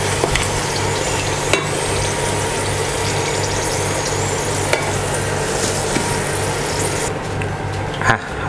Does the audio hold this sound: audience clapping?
no